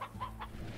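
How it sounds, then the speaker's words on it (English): Three short, soft clucks from a chicken in the video game Slime Rancher in quick succession, faint and thin, with a low hum underneath. "A hearty chicken bred to be twice as tasty as his cousin on Earth."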